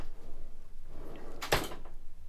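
A drawer in an off-road RV cabinet slides shut with a single soft thud and rattle partway through, close by, over quiet room background.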